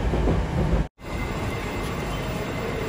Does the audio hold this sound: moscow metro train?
yes